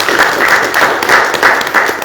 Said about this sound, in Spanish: Aplauso para Jeremías.